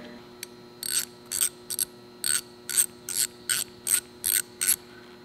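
Ratchet clicking as set screws are driven into the mounting brackets of an Acerbis handguard on a pit bike, about eleven short evenly spaced bursts, close and crisp against a faint steady hum.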